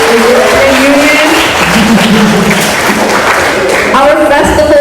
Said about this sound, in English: Can we give a round of applause for the European Union?